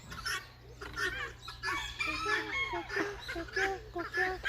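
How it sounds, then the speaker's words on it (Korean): Several chickens cluck and squawk continuously in a busy chorus, close and fairly loud, with a steady low hum underneath. "쟤네는 언제까지 꼬꼬거릴 거냐?"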